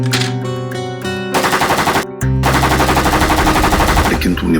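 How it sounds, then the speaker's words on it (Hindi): AK-47 rifle gunfire in a dramatic TV scene, rapid automatic bursts ringing out loud and close, with a short gap before another sustained volley, no talking. "इस AK-47 की आवाज से कोई ना कोई आएगा।"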